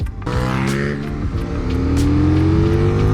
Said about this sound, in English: When properly accelerating on the bike feels incredibly quick.